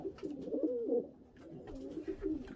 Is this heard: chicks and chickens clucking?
no